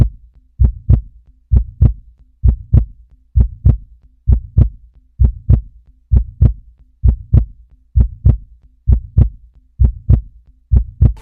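A heartbeat sound effect beating in a slow, regular lub-dub rhythm, each thump deep and loud, repeating evenly with nothing else heard.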